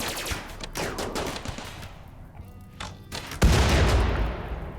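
Disintegrator turret gunfire during a RimWorld base defense, a dense crackle of rapid game shots and bursts, with a louder, heavier barrage near the end.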